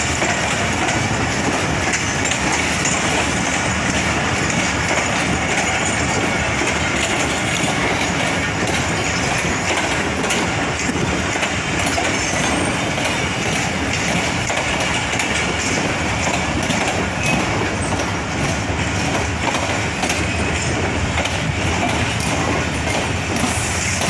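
Pakistan Railways mail train on the Karachi–Peshawar main line passing at Samasata junction, a loud continuous roar of wagons and wheels on track with rapid clattering, steady and close for the whole stretch.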